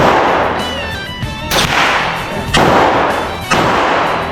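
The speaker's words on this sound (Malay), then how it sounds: "Tembakan tepat weh." Three sharp, loud rifle shots ring out at a shooting range in Chiang Mai, evenly spaced about a second apart, each a sudden crack followed by a brief echoing decay.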